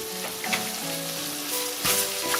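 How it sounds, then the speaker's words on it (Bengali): Green chillies with salt, turmeric and panch phoron powder fry in a pan for a pickle, giving a loud, constant sizzle close up, with occasional stirring clinks and no voices. "আবারও মরিচের সাথে সব কিছু খুব ভালোভাবে মিশিয়ে নিচ্ছি"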